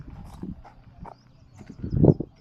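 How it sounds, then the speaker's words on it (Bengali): Arabian horses in an enclosure at Dubai Miracle Garden make a few soft hoof thuds and shuffling movements. A louder, breathy snort or blow comes near the end of the short, close stretch. "সুন্দর কিছু অ্যারাবিয়ান ঘোড়া আছে"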